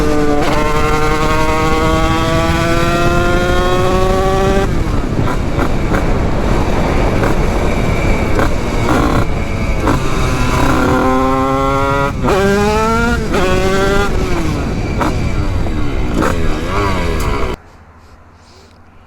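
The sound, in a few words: Yamaha DT motorcycle engine running and revving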